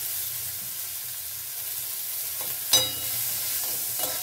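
Raw onion frying in oil with turmeric, giving a steady soft sizzle and hiss close by, with a sharp clatter near the end, no talking.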